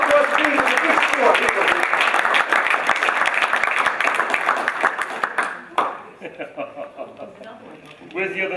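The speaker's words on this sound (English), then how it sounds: "Give Ben a big round of applause, please." An audience claps and applauds loudly for a volunteer at a live magic show, sustained dense clapping that tapers off into scattered claps while a voice speaks over the end.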